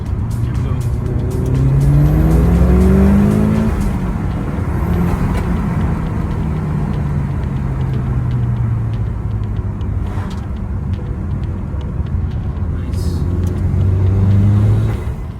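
A stock 2005 Mitsubishi Evo 9 revs hard under acceleration, its engine note climbing, dropping at gear changes, then rising again, loud and close from inside the car, with a voice talking over it at times.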